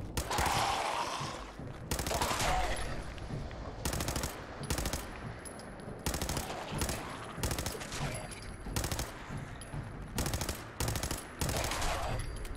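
Automatic pipe rifle fire in Fallout 4, heard as repeated loud bursts of rapid gunfire broken by short pauses, with fainter background noise between volleys.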